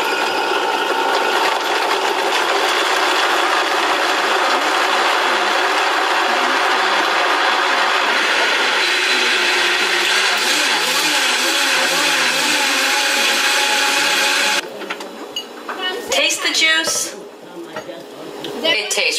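A powerful kitchen blender whirs loudly and steadily while pulverizing carrots, orange pieces, ginger, water and a pinch of salt into juice, with a constant grinding drone that cuts off near the end, leaving brief clatter.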